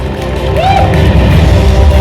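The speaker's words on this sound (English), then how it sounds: "A big round of applause" Audience at the Charming Prince & Princess India 2020 grand finale beauty pageant cheers and applauds the first runner-up, a dense steady crowd roar with scattered voices rising above it.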